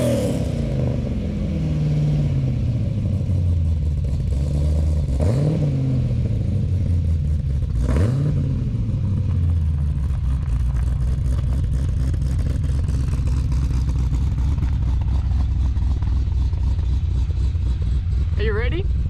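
Stripped-out Holden VF SSV Redline Commodore engine, a deep low rumble rising through revs and shifts as the car pulls away and drives on, loud and steady with voices speaking over it early.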